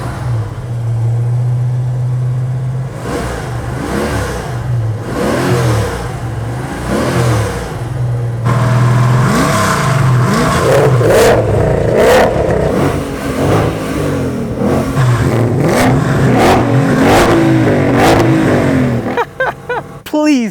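A 760-horsepower car engine revs repeatedly, rising and falling in loud, close bursts over a steady idle, with people talking over it.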